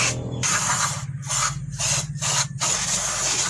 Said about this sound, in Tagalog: ito yung ating brake cleaner, SOP yan, laging spray natin yan